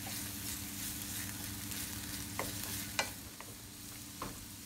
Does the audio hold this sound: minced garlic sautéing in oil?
yes